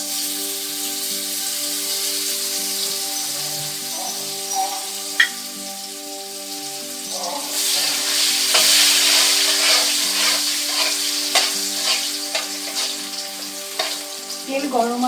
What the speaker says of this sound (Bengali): এই তেলের মধ্যে আমি এই আলুটা দিয়ে দিলাম।